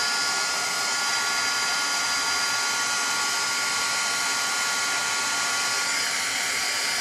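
A heat gun blows a steady, even rush of hot air onto melting crayons. The whoosh runs alone and uninterrupted at moderate loudness.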